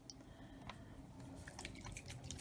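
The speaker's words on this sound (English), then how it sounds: "I'm going to splatter a little bit of water on here." Water from a Tim Holtz Distress sprayer splatters in globs onto paper, making a dense, continuous wet crackle of small drips and spatters close by, with no voices.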